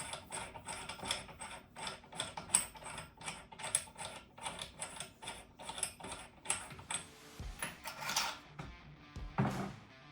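An LCT airsoft AK-105 has its muzzle brake unscrewed after the retaining pin is pressed, making rapid repeated ratcheting clicks up close, ending with a few metallic handling knocks.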